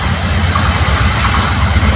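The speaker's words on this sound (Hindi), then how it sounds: "ये खैबर मेल टू डॉन जो मुल्तान शहर पहुंचती हुई मुल्तान स्टेशन के नज़दीक" Khyber Mail train arriving near Multan station, a steady loud rumble of rolling railcars with rhythmic wheel clatter and faint squeal, continuous and close throughout.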